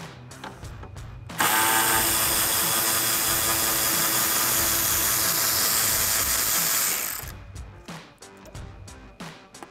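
A 10mm socket on a ratchet backs out the headlight bolts on a 2009-2018 RAM 1500, with a loud, steady motor whir running close for about six seconds between quieter clicks and handling noise.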